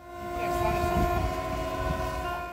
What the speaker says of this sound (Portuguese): O cortejo até a entrada dos cânions saiu ao som das buzinas das lanchas.